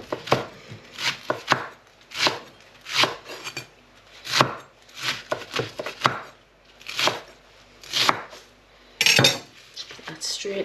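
A knife chops a leek on a board in a home kitchen, a brisk irregular run of sharp close taps and thumps with brief pauses, loud and alone.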